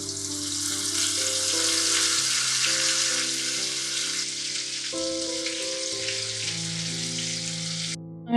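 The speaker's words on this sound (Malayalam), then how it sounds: "നമ്മൾ ചിക്കൻ ഇതേപോലെ ഫുള്ള് എല്ലാ പീസും നമ്മൾ ഫ്രൈ ചെയ്തെടുക്കണം." Chicken pieces shallow-fry in coconut oil with a loud, dense, continuous sizzle and crackle, steady throughout over a low background hum, with no voices.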